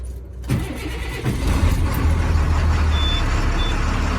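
A diesel fleet bus is cranked over on a cold morning, the starter and engine building from a low rumble into a steady, loud idle that sits close by with no talk over it.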